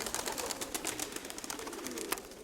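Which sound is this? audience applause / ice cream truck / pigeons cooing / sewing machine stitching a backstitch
pigeons cooing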